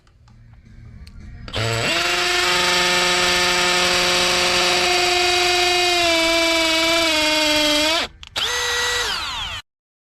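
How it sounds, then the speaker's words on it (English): A power drill bores anchor holes for a strap close to an edge while wiring a hot tub. It gives a loud, steady, high whine for about six seconds, stops briefly, then runs in one short final burst. "I'm drilling these holes, these anchors for the strap as close as I possibly can to the edge right there"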